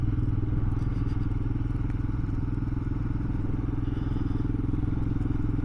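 A Royal Enfield Himalayan motorcycle rides along, its single-cylinder engine giving a steady low throbbing drone with a faint rattly clatter, held at even loudness throughout.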